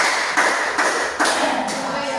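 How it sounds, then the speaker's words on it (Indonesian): Hands clapping together in a classroom game led by a teacher, with several sharp claps spaced out in a steady, deliberate rhythm over a broad hiss of room noise. "tepuk 5 kali."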